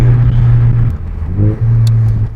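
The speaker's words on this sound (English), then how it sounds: "All the downshifts are way nicer now." Ford Focus ST engine during downshifts on a test drive after a rear motor mount install, a loud close cabin engine hum that dips and rises in pitch as the revs change.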